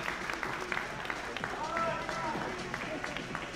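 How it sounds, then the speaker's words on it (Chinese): Audience applause sends off the fifteen competitors in the men's open bodybuilding class under 70 kg at a Taiwanese natural bodybuilding contest. Scattered, moderate clapping continues under a speaking announcer. "掌声是不是欢送15位男子健美公开组70公斤以下的选手"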